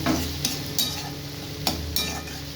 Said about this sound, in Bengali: এই যে আদাটা এই টমেটোটাও কেটে দিলাম এরকম কুচি করে এবার সবগুলো একসাথে নাড়াবো